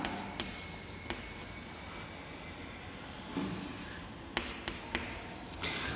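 Faint scratchy strokes of writing on a classroom board, a few short taps and rubs over a steady background hiss with a thin whine, quiet and close.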